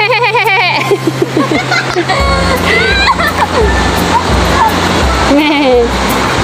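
One of two pet goats bleating in a wavering, quavering cry at the start, followed by a low rumbling wash of sea and wind on a beach, with people talking close by.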